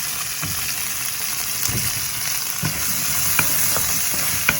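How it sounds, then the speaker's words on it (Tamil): Onions sautéing in a hot pan for chicken butter masala: a loud, continuous frying hiss broken by several soft spatula stirs and light taps throughout. "முதல் வெங்காயத்தை போட்டு அதை கொஞ்சம் வதக்கி எடுப்போம்"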